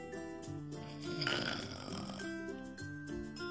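A person imitates a koala mating call as a drawn-out, guttural snore, rasping and grunting continuously at moderate volume.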